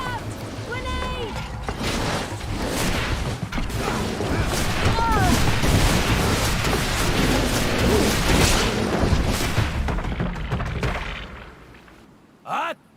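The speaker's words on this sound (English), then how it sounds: "Watch out! Grenade!" Combat in the video game GreedFall: a grenade blast and gunfire rumble through a dense, sustained battle din of booms and clatter, with voices shouting over it, then a short loud thump near the end.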